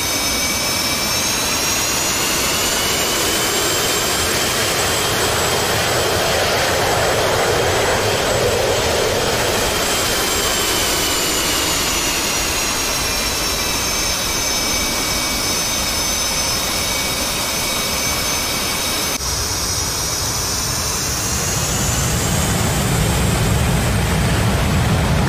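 F/A-18C Hornet jet engines heard from outside the aircraft in the DCS flight simulator, a loud, steady roar with a high whine that slowly shifts in pitch and swells near the end.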